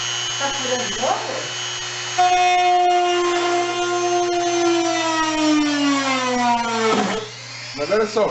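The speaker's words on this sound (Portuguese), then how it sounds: "Tá furando de novo?" An electric drill bores holes for a Harley-Davidson Tour-Pak wrap-around light unit, a loud whine sliding gradually downward in pitch for several seconds, with a voice speaking briefly before and after.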